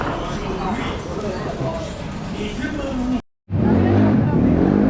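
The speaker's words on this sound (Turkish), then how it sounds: "Ses ama motor sesi." A car engine roars and revs steadily close by on a street of bars in Dotonbori, Osaka, the throaty motor noise running almost continuously with one brief drop-out.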